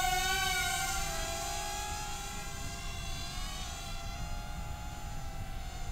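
A Hubsan H122D quadcopter drone flies just after takeoff, its motors giving a steady high-pitched whine that stays constant and fairly close with no talk.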